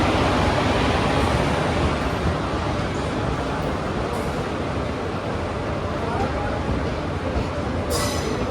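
A train's steady, loud rumble and rush fills Kozhikode railway station as the Kannur Intercity pulls in, a continuous broadband roar with faint higher squeals near the end.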